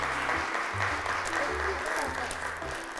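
Audience applause welcomes a child onto the stage of a children's television show, steady clapping throughout with music and a voice mixed underneath.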